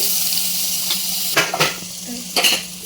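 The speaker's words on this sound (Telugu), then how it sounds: "ఇందులోనే ఇంకొంచెం బటర్ వేసుకోండి." Butter sizzles in a frying pan while paneer butter masala is cooked. A steady hiss runs throughout, and a few short utensil clinks and scrapes sound close by.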